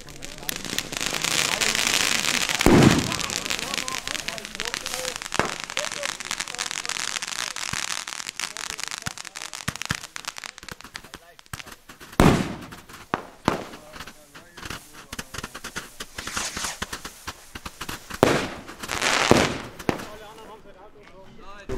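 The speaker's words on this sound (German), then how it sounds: "Weiter geht es, und zwar mit der Kometensturmbatterie, 100 Schuss." Kometensturm firework battery of 100 shots going off on a street at New Year's Eve, a dense run of crackling bursts with several louder booming reports spaced through it, loud and fairly near, with people talking over parts of it.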